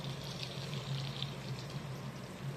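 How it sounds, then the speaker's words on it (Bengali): Water, the leftover hand-washing water, pours steadily into a hilsa fish dish being prepared for steaming with mustard and green chili paste, a continuous close trickle with no talk. "ওই হাত ধোয়া জলটাও দিয়ে দেব।"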